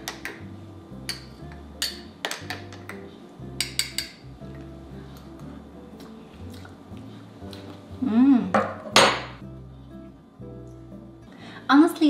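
A spoon stirs Nespresso peppermint mocha coffee in a cup, giving light metallic clinks and taps against the sides, scattered and fairly close, beneath someone speaking throughout.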